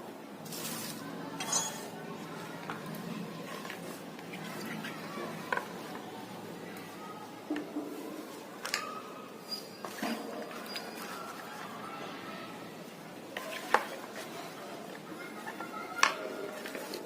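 Mango pickle being mixed with salt and chili powder in a home kitchen, heard as soft, scattered clinks and scrapes of a utensil against a bowl, fairly faint and intermittent.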